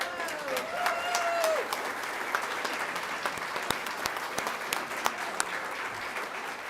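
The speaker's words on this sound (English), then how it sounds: "And how about a round of applause?" A church congregation gives a round of applause, steady moderate clapping that fills the room for several seconds, with a brief whistle or cheer near the start and scattered louder claps toward the end.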